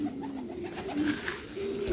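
Racing pigeons arriving back at the loft coo in low, steady tones against a constant background hum, close by and with no talk.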